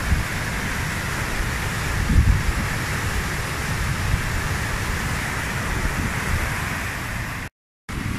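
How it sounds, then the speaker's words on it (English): A steady, powerful roar of river water rushing over a huge weir pours on without a break, loud and close, with no voices. "look at the speed of the water coming down the huge weir. Gosh, listen to the noise of that water."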